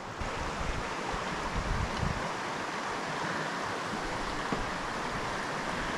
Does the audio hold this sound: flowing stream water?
yes